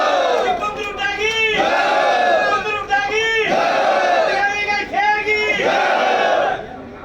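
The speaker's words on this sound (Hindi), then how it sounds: "तालियां बजा करके स्वागत करते हैं।" A crowd at a political election rally cheers and chants loudly in welcome, with massed voices rising in repeated rhythmic shouts and clapping mixed in.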